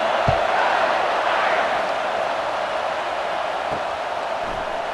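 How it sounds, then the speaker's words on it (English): A dense, steady roar from a stadium crowd at a college football game between Notre Dame and Indiana, a broad continuous wash of noise filling the whole stretch. "This crowd bringing an ear-splitting welcome to their visitors."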